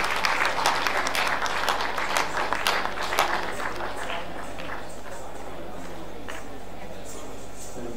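An audience at an international film festival applauds guests coming on stage, a dense burst of clapping for about four seconds that fades into quiet room hum, with talk mixed in.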